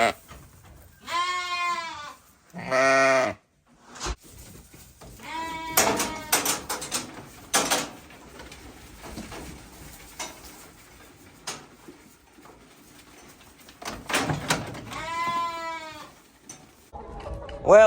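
East Frisian milk sheep bleat in several loud, wavering calls, close by and spaced out, with quieter tapping and barn movement between them.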